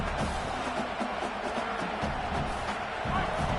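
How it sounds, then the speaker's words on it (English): Stadium crowd in a football video game roars continuously at full volume, a dense steady wash of cheering with no pauses, while commentary voices sit faintly within it. "This crowd, full throat, splitting the eardrums"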